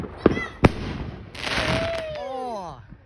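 Fireworks going off outdoors: two sharp, loud bangs early on, then a hissing burst followed by whistling, descending crackle, with excited voices around them.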